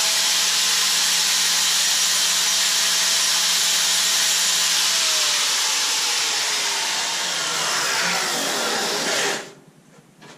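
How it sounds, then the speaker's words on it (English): Wire wheel on a power tool scouring bare metal in a car engine bay, a loud steady high hiss and grind running continuously before cutting off near the end, with no talk. "I'm going to go in here and wire wheel all of this"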